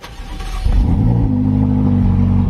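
A car engine starts and settles into a loud, steady idle hum close by, after a brief quieter clatter at the start.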